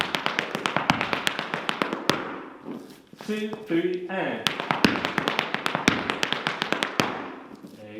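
Irish dance shoes tapping out a Flatley roll drum and treble steps, with fast, sharp, close taps in repeated bursts and a few heavier stamps, while a voice counts along in between.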